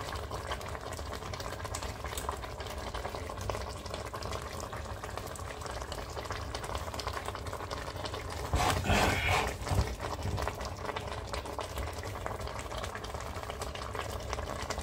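A pot of beans and salted fish in sauce simmers steadily, a continuous bubbling and hissing that holds even throughout, with a brief louder burst of bubbling partway through.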